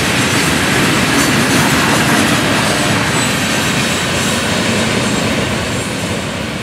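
FEC freight train led by locomotive 421 running long hood forward, pulling a short string of hopper cars, rolls by as a loud, steady broadband rumble with rail noise throughout, no voices.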